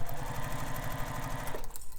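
Stitching bag pieces together, a sewing machine runs in a fast, steady mechanical chatter, close and moderately quiet, slowing and stopping near the end with no voices.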